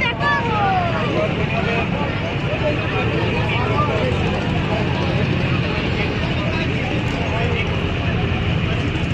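Launch boat crossing the Ganges to Mayapur, its steady engine drone and water wash continuous throughout, with a crowd of passengers chatting over it.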